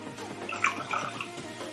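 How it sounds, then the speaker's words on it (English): Water poured into a jar holding lemon and rock salt, a steady close trickling and splashing with small bright drips throughout. "Then add some water in that."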